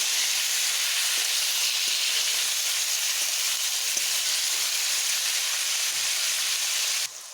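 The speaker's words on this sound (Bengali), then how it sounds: "নুন হলুদ দিয়ে ভেজে নেব" Pointed gourd deep-frying in hot oil with salt and turmeric gives a steady, loud, unbroken sizzle and hiss that runs alone throughout and drops off abruptly at the very end.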